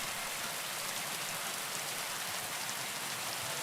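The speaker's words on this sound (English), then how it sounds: "It's pissing down with rain and I can hardly hear myself" Heavy rain pours steadily in the video game Kingdom Come: Deliverance 2, a dense, even hiss of drops on surfaces with no pauses or voices.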